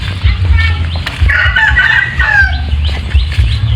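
Chickens cluck steadily nearby while a rooster crows partway through, with outdoor background noise throughout.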